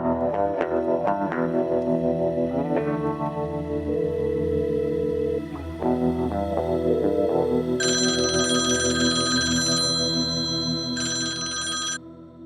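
A telephone in a Pakistani drama scene rings in two loud, steady electronic bursts over a background music score, ending abruptly.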